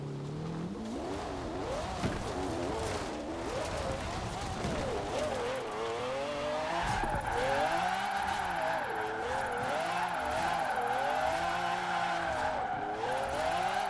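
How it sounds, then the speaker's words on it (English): A supercar engine in Forza Horizon 4 revs hard through fifth gear while drifting, a loud, continuous, rising and falling whine layered with tire squeal, with a voice speaking faintly underneath. "there's fifth gear revving all the way out with no issues"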